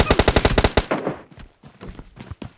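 Rapid bursts of shotgun fire in PUBG Mobile Lite, about eight loud close blasts in quick succession, then quieter scattered shots and game noise trailing off.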